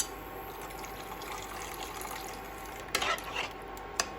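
Water is poured into a pan of bata fish mustard curry, producing a brief splashing rush near the end over a quiet background, followed by a single sharp clink, heard close with no talking.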